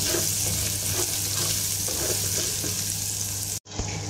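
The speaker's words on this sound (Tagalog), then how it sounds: "So guys, igigisa na natin yung ating bawang." Garlic and ginger sizzle steadily in hot oil in a frying pan, a loud continuous crackle with faint stirring, cutting off abruptly near the end before resuming.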